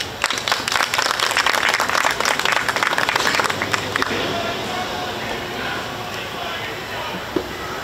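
Applause for Haiti's Minister of Culture at a commemoration ceremony for the Haitian monument in Savannah, Georgia: a dense crowd claps loudly for about four seconds, then fades into a low murmur with a single late clap.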